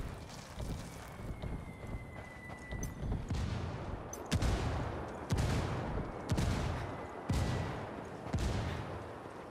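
Gunfire in the shooter Ghost Recon Wildlands as the squad is pinned down: a scatter of quick distant shots gives way to loud, sharp reports spaced roughly a second apart, each with a booming tail, and no talking over them.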